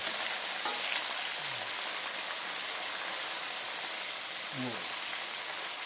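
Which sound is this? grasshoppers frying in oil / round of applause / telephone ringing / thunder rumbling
grasshoppers frying in oil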